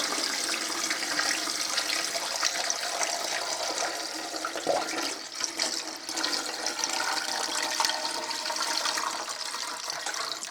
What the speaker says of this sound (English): Now you're going to want at least 2 quarts of water in here.